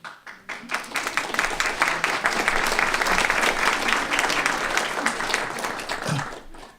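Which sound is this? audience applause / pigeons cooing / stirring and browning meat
audience applause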